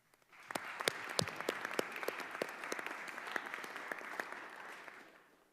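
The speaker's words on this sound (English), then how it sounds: "I think the students should give them a round of applause" Audience applause at a House Education Committee roundtable on antisemitism, honoring students: steady, dense clapping from a crowd, moderately loud and sustained for about five seconds, then tapering off.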